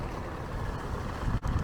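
Riding lawn tractor with a rear attachment mowing beside a driveway, its engine droning steadily and fairly close, with no speech.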